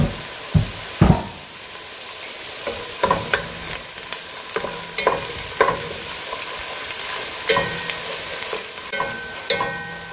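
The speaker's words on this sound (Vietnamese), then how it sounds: "Mình phi tỏi và củ hành tới khi mà có cái màu vàng nhạt như vậy nè" Minced garlic and onion fry in a pan until pale golden, a continuous sizzle broken by repeated sharp scrapes and clacks of a utensil stirring at an irregular rhythm, close up with no talk.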